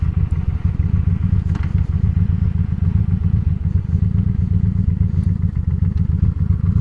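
A Honda Shadow motorcycle rides steadily, with a continuous low engine rumble and wind buffeting that hold an even level throughout and carry occasional light clatter and thuds, and no voices.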